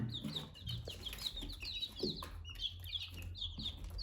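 Village-breed chickens cluck and chirp in repeated short calls at close range, with a steady farmyard murmur beneath and no talking.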